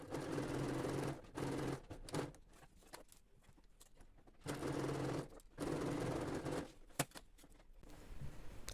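Sewing machine stitching fabric pieces together with a 1 cm seam allowance for an insulated lunch bag, running in several steady bursts with short pauses between them.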